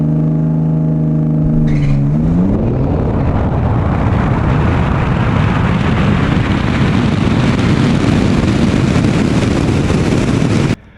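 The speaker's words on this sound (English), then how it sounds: "we did get a little bit of spin off the line as expected with street tires" A 2026 Dodge Charger Six Pack on street tires idles with a steady hum, then launches with some wheelspin into a loud, continuous engine roar that builds for about nine seconds before cutting off abruptly.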